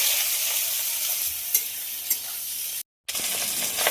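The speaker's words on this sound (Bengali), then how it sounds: "তেল গরম হয়ে গেছে, ভাজার জন্য চিংড়ি মাছটা দিয়ে দেবো।" Shrimp seasoned with turmeric and salt fry in hot oil in a wok, giving a loud, continuous sizzle with a few stirring clicks and a brief cut to silence near the end.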